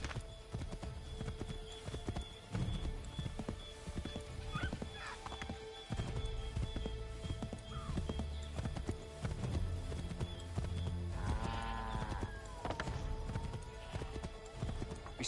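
A horse gallops in Assassin's Creed 3, hooves clip-clopping in a fast steady rhythm under a busy game soundscape, with a brief whinny partway through.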